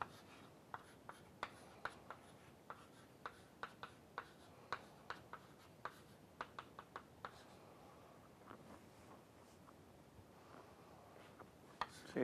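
Chalk or marker writing on a board during a maths lecture, a series of short crisp taps and strokes at a steady working pace, fairly faint and close, with no voice over it.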